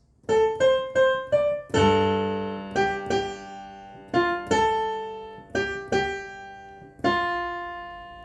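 Piano notes ring out clearly in a short melodic phrase from a chorus, single quick notes mixed with fuller sustained chords, played alone at moderate volume.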